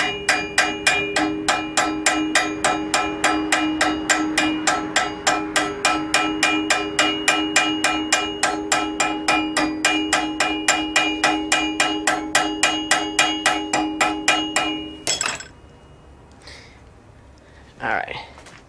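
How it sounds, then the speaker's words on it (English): A small ball peen hammer rings against hot metal while forging a rose, fast, even, bright strikes for about fifteen seconds, then stopping, followed by a short pause and a single clank. "give me a little ball peen hammer to help me move it"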